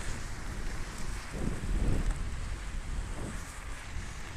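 Storm wind roars outdoors around a cyclist on slippery black mud, a continuous rough buffeting rush with gusts swelling and easing, loud and close against the microphone.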